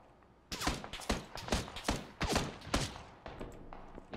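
Enemy gunfire in the battle royale game PUBG, a quick series of sharp, loud single shots at an irregular rhythm with short pauses between them, heard clearly and close with no talking.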